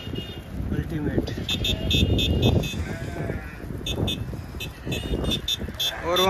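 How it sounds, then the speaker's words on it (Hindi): Tourists honk car horns in the mountain village of Chitkul amid sheep and goats, short toots repeating in the background while sheep bleat and someone talks over it. "और वहां पे टूरिस्ट हॉर्न बजाने लग गए हैं।"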